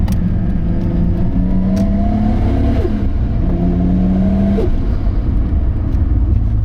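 A 700hp Nissan R32 GT-R fitted with a new GTW3884 67mm turbo pulls hard from close by. Its engine drone climbs in pitch through two accelerating runs, loud and steady throughout.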